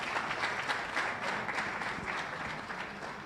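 Audience applause at the IGAD State of the Region Address, a steady wash of many hands clapping from a crowd, moderately loud and sustained throughout without pause.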